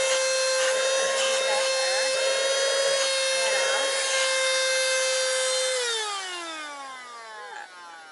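A VacLife cordless handheld vacuum cleaner switched on and running close by, a steady high-pitched motor whine with strong harmonics that drops in pitch and fades as it powers down near the end.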